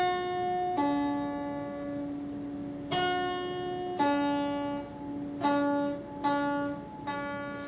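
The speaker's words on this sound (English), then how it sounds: "you're kind of plucking the string with your left hand" Acoustic guitar pull-offs in a fingerpicking lesson, the left hand plucking each string with no right-hand picking, giving about seven clear ringing notes that each step down in pitch, alone and close.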